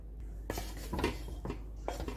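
Ghee-coated pulao turned and stirred in a metal pot, with a few scraping, clinking strokes of a spoon against the pot spaced out over a couple of seconds, moderately close and without talk.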